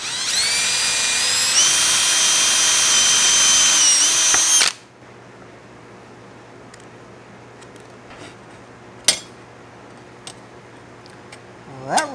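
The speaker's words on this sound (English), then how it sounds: "I'm going to drill these rivets out" A power drill bores out rivets on a metal badge for a vintage vending machine, a loud steady whine for about four and a half seconds, then cutting off to a quiet room with a few sharp clicks.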